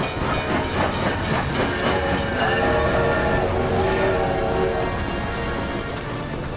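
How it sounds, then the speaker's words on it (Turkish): A train rumbles past loudly and steadily, with a continuous roar and metallic rattling throughout. "Tren geliyor."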